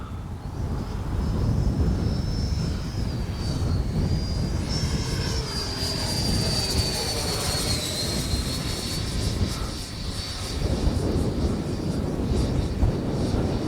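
An RC Freewing Mirage 2K V2 jet flies on a windy day, a steady whining turbine-like tone sweeping slightly in pitch over a constant low roar of wind across the microphone, no talk.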